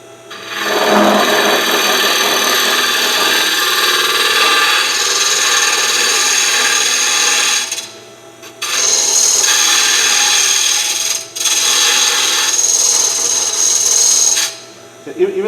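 A round hollowing cutter scrapes into wood spinning on a lathe, a loud continuous rasping whine that drops out briefly twice before resuming, with no talking.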